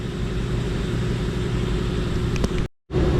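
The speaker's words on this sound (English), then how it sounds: "I know the compressor running" A Chevy Malibu's AC compressor runs in a steady, loud mechanical drone with a low hum, continuous for about two and a half seconds before cutting out briefly and resuming.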